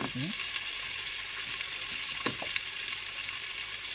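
Onions frying in a pan, koshari style, a constant bright sizzle and crackle with a couple of brief scraping or clinking touches partway through, fairly close and steady.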